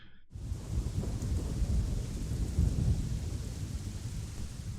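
Heavy rain and rolling thunder from a scene in the animated film Princess Mononoke, a steady loud downpour with deep low rumbles that starts abruptly and continues without speech.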